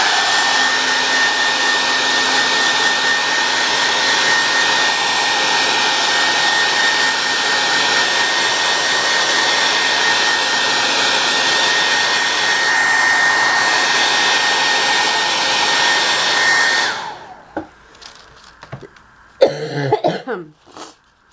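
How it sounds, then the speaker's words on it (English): A hair dryer blows steadily and loudly for about seventeen seconds while drying a wet faux rice paper craft, then cuts off, leaving brief handling noises and faint sounds. "I think I'm going to take another round of blow drying this."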